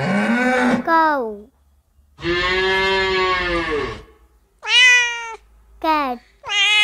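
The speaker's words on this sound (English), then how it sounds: "Cat." Several harmonic animal calls in a row, long drawn-out cries alternating with shorter ones and brief pauses, loud and close, like a cat meowing.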